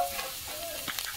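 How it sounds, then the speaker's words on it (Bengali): Grated coconut dropped into a hot wok and stirred, giving a brief soft sizzle with scraping stir sounds, close and alone. "কড়া বসিয়ে দিয়েছি, এবার দেখুন নারকেল দিয়ে দিচ্ছি"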